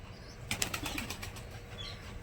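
A burst of wing flaps as several pigeons take off together from farmland, a brisk flurry of beats against a steady outdoor background.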